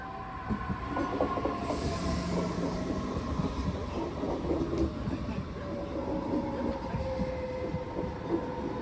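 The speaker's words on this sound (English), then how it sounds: "this here is a train coming from the direction of St. Martin-Straße off the viaduct into Platform 3 at Ostbahnhof" Munich S-Bahn train pulling off a viaduct into Platform 3 at Ostbahnhof station, a steady loud rumble of wheels and motors with sustained squealing tones and clattering rail joints throughout.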